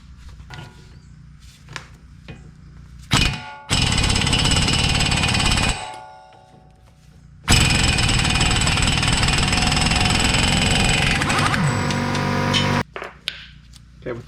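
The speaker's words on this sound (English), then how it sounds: "We'll go ahead and blast that off with the impact." An impact wrench hammers loose the axle nut on a 1998 Honda Accord in two long, loud rattling bursts separated by a pause, with a few quieter clanks of tools before, between and after.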